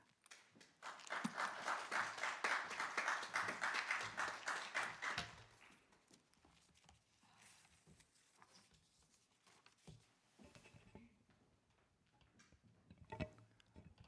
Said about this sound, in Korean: 목사님 나오실 때 우리가 박수 한번 하겠습니다.